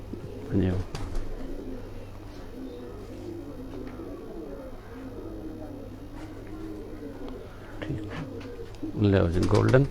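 A group of Kasuri pigeons cooing close by, with rolling repeated coos throughout and louder bursts at the start and end, while someone talks over them.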